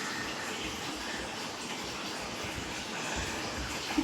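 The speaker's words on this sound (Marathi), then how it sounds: "आता मी मस्त धुवून घेते केस." Water running steadily while henna is washed out of hair, a continuous soft rushing splash at moderate level throughout with no voices.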